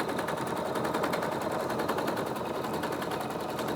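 A quilting machine stitches yarn into fabric with a steady, fast mechanical rattle, its rapid even needle strokes running continuously at moderate level with no voices.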